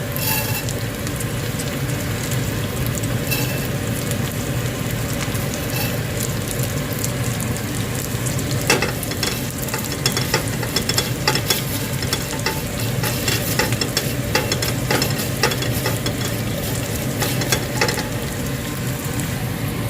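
Ingredients such as vermicelli sticks frying in a pan, a dense continuous sizzle with occasional stirring scrapes, loud and close for a long stretch with no talk.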